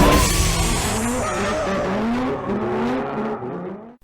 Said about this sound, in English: Drifting is all about style.